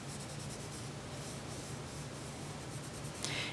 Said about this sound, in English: I'm going over the pencil, and I'm blending it with my finger